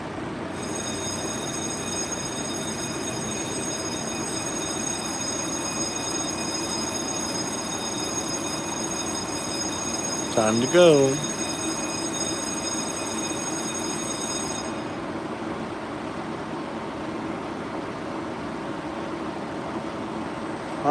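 A steady rail rumble and whine of a moving subway car, with a brief squeal midway and a short spoken phrase over the constant running noise.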